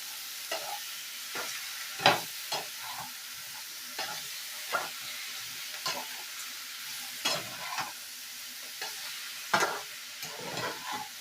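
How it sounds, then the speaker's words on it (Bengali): Spices and mixed vegetables sauté gently on a low flame in a home kitchen, a soft sizzle under repeated scraping strokes of a spatula stirring the pan. "সব উপকরণগুলো দিয়ে একসঙ্গে আমি মশলাটাকে কষিয়ে নিয়েছি আস্তে কিন্তু একটু লো ফ্লেমে দিয়ে করতে হবে"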